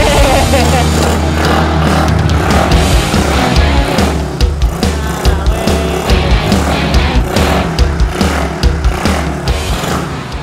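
The engine of a restored 18-year-old Suzuki Shogun Pro motorcycle runs close and loud with a buzzy, slightly uneven idle and revving pulses, while people talk over it.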